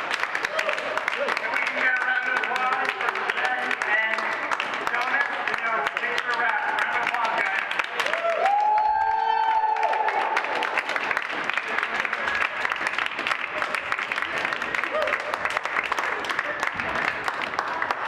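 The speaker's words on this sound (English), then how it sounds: "Let's get a round of applause, everybody." Sustained applause and cheering from a film crew celebrating a picture wrap on set, a dense steady wash of many hands clapping for the whole stretch, with shouts and voices mixed in and a brief whistle-like tone partway through.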